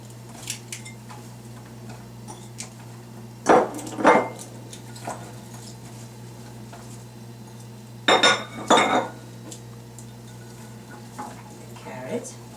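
Carrots and potatoes are spread in a baking dish, with two short bursts of clinking and scraping of utensil against the dish over a quiet background hum.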